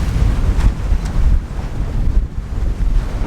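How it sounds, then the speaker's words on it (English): Strong wind buffets the microphone aboard a sailboat while large ocean waves surge and crash nearby, a loud, rushing roar with no one speaking. "Big waves."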